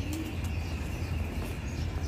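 Pigeons coo softly and chirp as they come down to bathe on a morning, faint calls over a steady outdoor background hum, with no talking.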